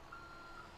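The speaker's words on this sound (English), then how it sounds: "And I beep when I back up" Reversing beeps from a garbage tank in Grand Theft Auto V, two short tonal beeps about half a second apart over a steady engine-like background drone.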